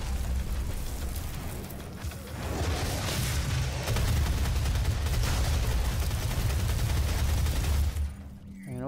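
Relentless rifle and Gatling gun fire in the video game DOOM, a dense roaring barrage of rapid shots and booming impacts that runs nearly continuously before cutting off at the end.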